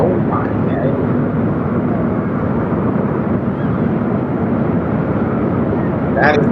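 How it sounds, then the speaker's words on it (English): A military aircraft flies over London during a Victory in Europe 80th anniversary flyover, a loud, steady broadband roar that fills the whole stretch, with people talking beneath it. "How big that plane is."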